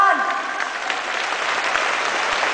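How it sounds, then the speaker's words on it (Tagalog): Audience applause at a Foursquare church gathering in Pangasinan, a dense, steady wash of many hands clapping throughout, with a few brief voices heard early on. "palakpak po sa ating Panginoon."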